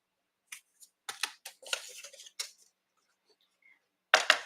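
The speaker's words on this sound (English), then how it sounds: "I'm going to use my trimmer." A paper trimmer slices through card in several short, crisp strokes, then goes quiet, and a louder closing swipe comes near the end.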